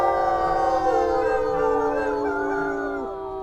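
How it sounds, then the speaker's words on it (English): Wolves howl in the game WolfQuest, several long overlapping voices rising and falling together in a sustained chorus that slowly fades toward the end, with no talking. "We've even got a dispersal howling at us right now."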